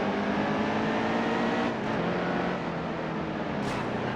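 Race car engine in the NASCAR Heat 2 video game, Xfinity Series, droning steadily and loudly through a turn with a slight drop in pitch midway; no talk.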